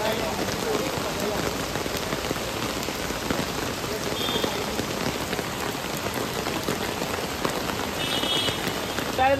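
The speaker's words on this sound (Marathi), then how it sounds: "आज सकाळी सकाळी पण पाऊस आहे" Morning rain pours steadily, a close, even wash of patter and drops lasting the whole stretch, with no clear speech above it.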